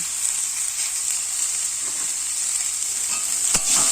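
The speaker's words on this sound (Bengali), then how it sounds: "এভাবে নাড়াচাড়া করে হালকা একটু ভেজে নেব" Bitter gourd and potato with turmeric and salt being stir-fried: continuous bright sizzling with occasional spatula scrapes and knocks against the pan, no talking.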